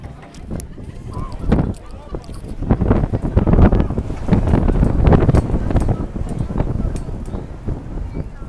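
Wind buffets the microphone at a school baseball field with gusty, rumbling roar throughout, while a commentator talks over it.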